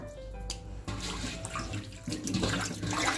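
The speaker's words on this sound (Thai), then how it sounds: "ล้างเสร็จแล้วปลาก็จะ ใช้มือนี่แหละค่ะโกยขึ้นมาเหมือนเดิมเลยนะคะ" Small washed fish being scooped by hand out of a basin of water during prep for crispy fried fish, giving continuous close sloshing and pouring water with no talk.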